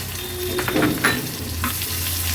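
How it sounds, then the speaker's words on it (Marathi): Onion added to hot oil with mustard seeds, cumin and curry leaves, giving a loud, continuous sizzle with brief bursts of crackling and stirring, close to the pan. "नंतर छोट्या साईजचाच एक कांदा घेतला आहे, तो ॲड करूया।"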